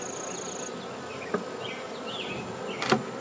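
Honeybees buzzing around an open hive during an inspection of a small swarm, a dense close drone with individual bees whining past, plus a couple of faint knocks.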